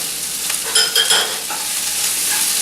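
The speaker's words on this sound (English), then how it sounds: "now we're gonna add our greens to it" Greens are stirred in a hot pan, giving a steady bright sizzle of frying with a few scraping stir strokes early on, close and fairly loud, with no talk.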